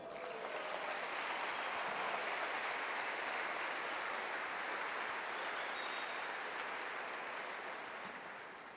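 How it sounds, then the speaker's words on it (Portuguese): Congregation in a church service breaks into strong, continuous applause, a broad wash of many hands clapping at moderate distance that swells early and fades gently toward the close. "Dê para Jesus um forte aplauso."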